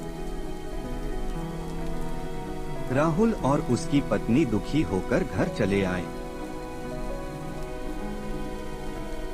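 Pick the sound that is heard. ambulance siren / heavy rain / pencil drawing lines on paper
heavy rain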